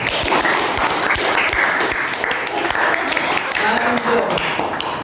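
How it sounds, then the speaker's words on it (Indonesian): A small group in a school counseling session claps for a student's answer, a brisk close round of hand claps with talk running over it. "Tepuk tangan buat jawaban Riana."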